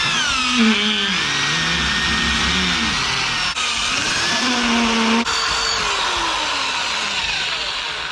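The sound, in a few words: drill with grinding stone grinding holes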